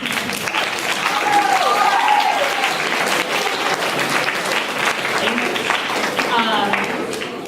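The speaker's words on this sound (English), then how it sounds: "Band, you may applaud your families." Steady, full applause from a school band clapping for families at a school band concert, sustained loud clapping in an indoor hall with some crowd murmur mixed in.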